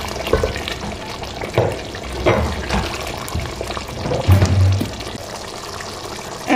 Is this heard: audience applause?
no